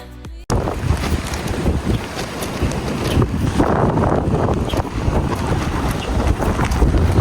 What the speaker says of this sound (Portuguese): eu vou poupar o ouvido de vocês com esse barulho de vento